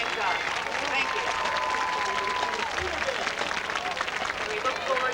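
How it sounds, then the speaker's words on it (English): An audience applauds the Brownsville school band at a playoff football game, a sustained spread of clapping and crowd noise from a large group, fairly distant and steady for several seconds. "Can we hear one more round of applause for the band and the 3 soloists?"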